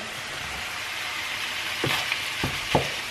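Minced meat fries in a pan with a constant close sizzle and a few spatula scrapes and clinks toward the end, no voices.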